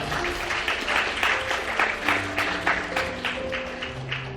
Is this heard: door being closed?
no